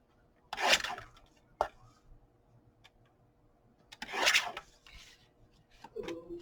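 Scissors or a craft cutter slicing through a 2 by 3 3/4 inch piece of card for a journaling card, heard as two short rasping cuts a few seconds apart with a small tap between, close and fairly quiet.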